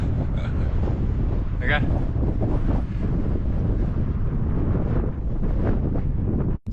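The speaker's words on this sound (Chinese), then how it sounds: "今天好大风啊！" Strong winter wind in the Xinjiang desert buffeting the microphone, a loud continuous roaring rush with gusty surges throughout, while a person speaks briefly.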